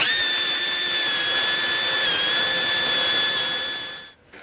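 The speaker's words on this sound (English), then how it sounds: "Just a little bit of work and help with the die grinder." A die grinder whines at a high, steady pitch while cutting through a bolt on an F100 front suspension radius arm, loud and close, then winds down at the end.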